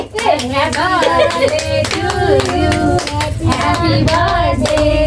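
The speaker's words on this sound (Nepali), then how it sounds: "ताली बजाउँ ताली" A group claps hands together at a surprise birthday party, dense rapid applause running the whole time, close and loud, with people talking and singing over it.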